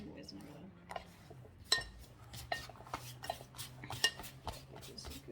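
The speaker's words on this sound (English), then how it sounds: "Just a good stir. They're all well coated." Sliced apples for apple pie stirred in a bowl, with soft scraping and scattered light clinks of utensil on the bowl, quiet and close.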